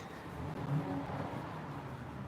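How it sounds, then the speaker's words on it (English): A car engine revs as it drives by, a steady mid-distance roar that swells briefly and then holds as a continuous rumble with no talk over it. "I'm hearing engine sound right there."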